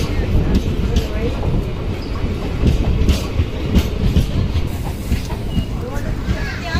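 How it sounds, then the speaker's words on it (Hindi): A passenger train hauled by a WFP4 locomotive arrives at a station, wheels clattering rhythmically over rail joints at moderate volume, with a steady rumble and a voice speaking over it. "अपनी ट्रेन आ चुकी है WFP4 के साथ"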